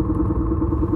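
A BMW R1250 motorcycle exhaust recorded on an Insta360 camera, a steady muffled, low engine drone that sounds dull and underwater-like, continuous and fairly loud throughout.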